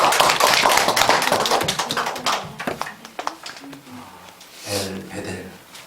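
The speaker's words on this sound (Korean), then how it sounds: "우리에게 은혜 주신 하나님께 영광의 박수 올려드리겠습니다." Church congregation at a Korean Sunday worship service clapping together in praise, a burst of many hands at first that thins into scattered claps, then fades into speech and a short sung phrase.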